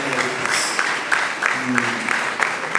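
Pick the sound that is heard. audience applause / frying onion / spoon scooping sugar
audience applause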